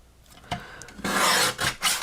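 Red material is trimmed off a handmade Christmas craft piece, giving short close rasping and scraping strokes, a soft tap and then a longer brisk rub, with no talking.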